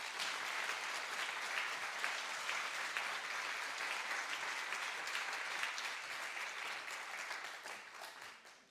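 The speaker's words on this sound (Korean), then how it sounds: "만 명 이상 모인 곳의 박수 소리 같은 우렁찬 박수" Thunderous applause from a large Baptist church congregation, dense and sustained for nearly nine seconds before beginning to taper off at the end.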